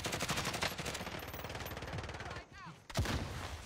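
Rapid automatic gunfire rattles nonstop in a first-person shooter video game, dense bursts at fairly low level that drop briefly near the end before another shot cracks out.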